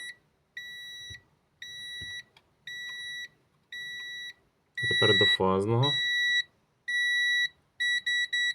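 Repeated sharp electronic continuity beeps from a multimeter in a steady on-off rhythm, clear and close, with someone briefly speaking over them midway.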